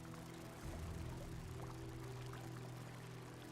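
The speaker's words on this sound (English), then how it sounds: "Yeah, I love the falling water sound." Falling water trickles and pours in an inn room in Elder Scrolls Online, a soft steady splashing over a low ambient hum, quiet and continuous.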